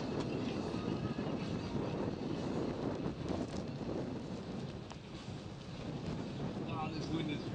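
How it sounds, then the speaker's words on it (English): Strong wind buffets the microphone at a motocross track, a continuous, loud rushing roar that fills the whole stretch with only slight variation. "this wind is freaking awesome"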